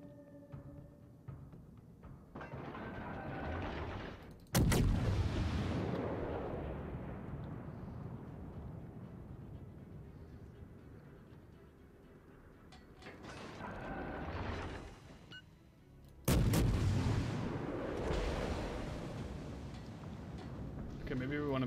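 Warship guns fire in World of Warships, two sharp heavy salvos booming out several seconds apart, each trailing into a long rumbling decay over a mechanical hum.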